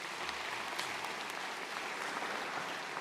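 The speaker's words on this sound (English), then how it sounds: "Give them a round of applause" A spring commencement audience gives a round of applause for a student representative: a full, even wash of many clapping hands in a large hall, steady and continuous from start to finish.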